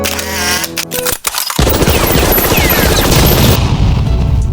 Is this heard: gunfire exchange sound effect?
yes